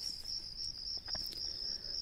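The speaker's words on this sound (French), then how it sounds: "Ça s'appelle Nuit d'été. Avec les grillons." Crickets chirp steadily through a summer night, a continuous high trilling chorus that stays even and unbroken, with faint soft rustles now and then and no voices.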